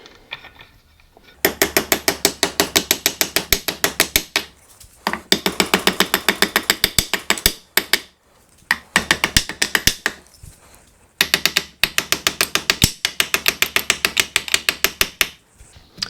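A wrench ratchets as it torques up a ball joint on a Classic Mini. Four loud, close bursts of rapid, even clicking are separated by short pauses, with no talking.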